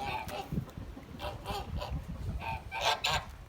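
Muscovy ducks give repeated husky calls and short honking bursts at close range, several overlapping across the stretch, with a trickling stream in the background.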